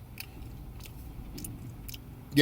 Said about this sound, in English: I'm chewing on a dried out lime